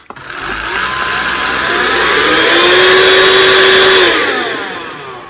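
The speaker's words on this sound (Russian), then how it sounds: "Там стоит турбощетка, которая все это дело у вас пылесосит." A cordless vacuum cleaner with a turbo brush runs in turbo mode, its high motor whine rising in pitch and loudness, holding steady, then winding down over a few seconds.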